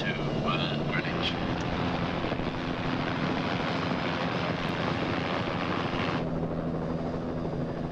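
A helicopter flies over London, its steady rotor and engine roar filling the scene continuously at fairly close range, with a drone that stays constant before easing slightly near the end.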